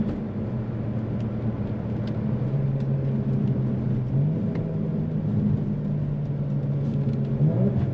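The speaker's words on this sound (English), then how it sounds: "Like a little downshift right here." A Kia Stinger with catless downpipes downshifts on its paddle shifters, its engine a steady low rumbling drone heard from inside the car, the pitch rising briefly twice as the revs jump.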